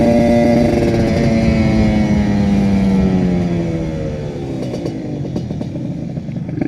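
A Kawasaki Ninja RR two-stroke motorcycle engine holds a high, buzzing rev, then the pitch gradually drops as it settles, loud and close with raspy harmonics and no talking.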